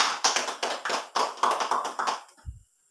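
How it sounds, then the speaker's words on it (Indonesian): Applause for a speaker at a preaching practice session, a short burst of hand claps in an uneven rhythm with distinct taps, fairly close, fading out after about two and a half seconds with a soft thump at the end. "Tepuk tangan mohon Pak Ilai."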